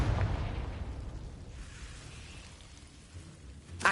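Confringo blasting spell going off in Hogwarts Legacy: a fiery burst at the start that rumbles and fades over several seconds, with a sharp crack returning right at the end.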